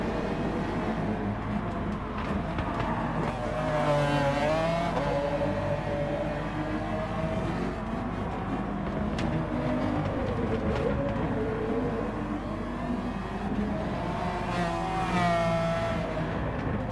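A Gr3 race car engine in Gran Turismo Sport at Fuji revs loud and continuous, its pitch rising and dropping as the driver short shifts low in the rev range, with steady tyre and road noise underneath.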